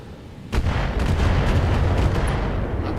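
A missile launch in the mech combat game Battletech bursts in with a deep boom, then a sustained heavy rumble roars on at steady loudness with no talk.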